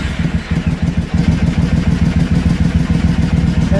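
A Triumph America motorcycle engine on a cold start settles into a loud, close, even idle with a steady rhythmic thump and mechanical clatter.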